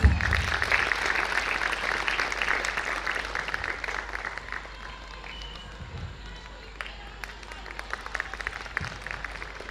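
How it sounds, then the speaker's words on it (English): A round of applause at a school convocation ceremony, fairly loud at first then thinning and fading into scattered claps, with some talk underneath. "Please a big round of applause."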